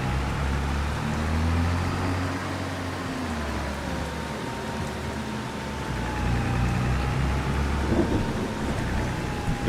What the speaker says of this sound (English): The rain has started, if you hadn't noticed.